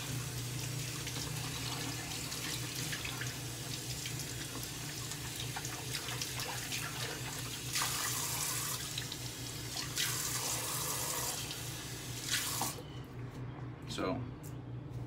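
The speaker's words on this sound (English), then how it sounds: "Just gonna rinse the tub out right here." Tap water runs steadily into a sink while a shaving tub is rinsed out, a continuous close splashing stream with brief louder gushes as the tub meets the flow, fading near the end.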